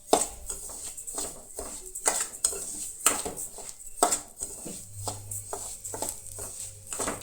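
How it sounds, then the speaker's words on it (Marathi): Semolina roasting in ghee in a pan for a Goan soji dessert, stirred with a spoon that clinks and scrapes against the metal in a steady series of close taps, with no voices. "हांव न्हय तूप घालतलें आनी कणी तुपान फुलोवन घेतलें"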